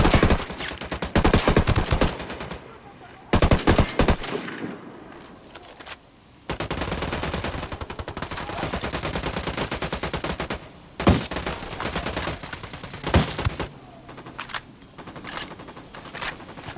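Sustained bursts of automatic gunfire and fusillades in the Ghost Recon Wildlands video game, loud and dense with rapid volleys, brief pauses and sharp louder shots, with no speech.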